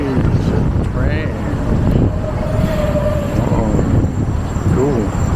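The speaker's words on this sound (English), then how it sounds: "Here comes the City Tram." A crowded Melbourne City Circle tram pulls up at a busy street stop: a steady rumbling, wind-buffeted roar with a thin metallic wheel squeal partway through and faint voices around.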